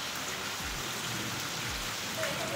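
Heavy monsoon rain falls on a village home, a steady wash of rain noise with low rumbles throughout, fairly loud and close, with no voices.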